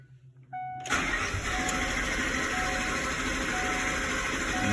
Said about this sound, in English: Try cranking it here.